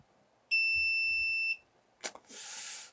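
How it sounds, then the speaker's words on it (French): A Creality UW-02 wash and cure station gives a single loud electronic beep holding for about a second, followed by a short clunk and a brief hissing whoosh; otherwise quiet. "L'autre chose, c'est le bip bip bip bip."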